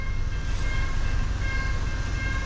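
Continuous heavy rumble of an urban commuter train in Sakarya, Turkey rolling by close, with a steady low roar and faint high tonal whine throughout; no speech.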